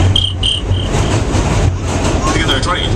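A voice imitates crickets chirping, giving repeated short high trills in a few bursts over a steady, loud rumbling background of a New York City subway.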